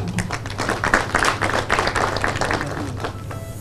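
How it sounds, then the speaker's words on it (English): Audience at a Cavendish University Uganda 10th anniversary celebration claps, a dense burst of hand claps that holds steady for a few seconds, with no one speaking over it. "I believe that goes for a hand clap"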